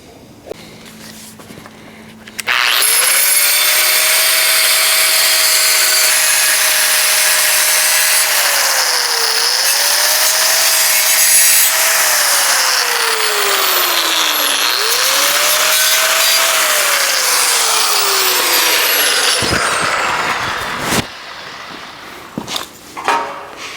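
A power tool, likely a cutoff saw or grinder, slices the lower legs off a 1970 El Camino custom grille, whining loudly and steadily for about twenty seconds with pitch dips as the blade loads, then spins down.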